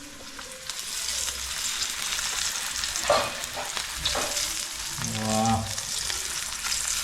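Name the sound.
pomfret fish frying on a pan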